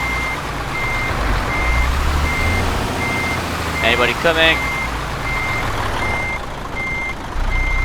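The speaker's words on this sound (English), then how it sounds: "big lorry reversing into the road" Reversing beeps from a lorry in Euro Truck Simulator 2, a steady evenly spaced series of high electronic pips repeating over engine rumble, with a brief burst of other tones midway and someone talking over it.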